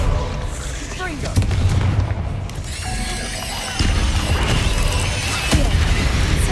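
Combat spell blasts from the Confringo fire spell in Hogwarts Legacy, loud booming impacts and crackling bursts over continuous battle noise, with voices heard amid the chaos.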